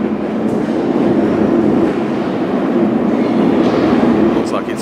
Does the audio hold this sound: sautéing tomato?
no